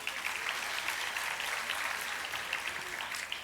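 Audience applause fills a school annual-day cultural program hall, a steady wash of many hands clapping throughout, fairly dense and even with no voices on top.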